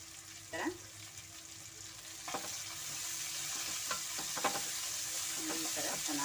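Chopped mint fries in oil for mutton sukka, a close, constant sizzle with occasional clinks and scrapes of stirring that grows slightly louder toward the end.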